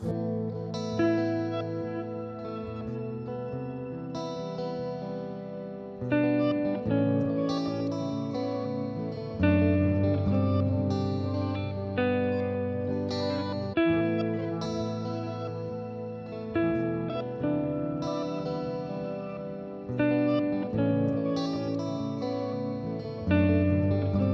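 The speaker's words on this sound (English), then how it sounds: "some nice ambient reverb and delay going on there" A looped electric guitar phrase repeats through ambient reverb and delay pedal effects, its chiming chords smeared into a lush, echoing wash with a rhythmic restart every few seconds; no talking.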